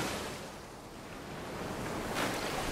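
Ocean surf breaking along a Tahiti shore, a continuous broad roar of waves that swells slightly louder toward the end, heard alone with some wind and no voices.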